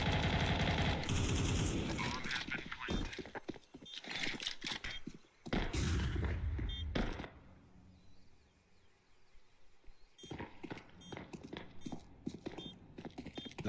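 Rapid bursts of MAC-10 submachine gunfire in Counter-Strike 2, loud and close for the first several seconds, then a quieter stretch before more clattering shots return.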